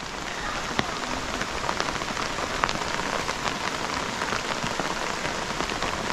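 Light rain falls on a surface at a construction site where concrete work is underway, a steady hiss with scattered sharper drop taps, continuous and fairly close with no talking.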